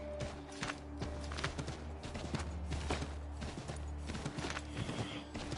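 Horse hooves from Assassin's Creed 3 clip-clopping in a quick, steady rhythm of sharp strikes, fairly faint over a low background hum, with no talking.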